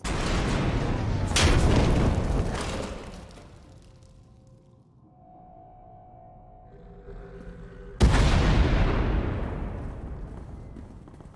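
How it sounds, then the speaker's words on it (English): Heavy blasts and a rumbling tunnel collapse in the Star Wars: The Old Republic video game, with two loud booming bursts separated by a quieter stretch of low rumble and debris, each decaying slowly. "We heard explosions. The tunnel collapsed."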